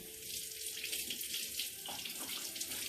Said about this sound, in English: Right now, we're going to wash these lemons,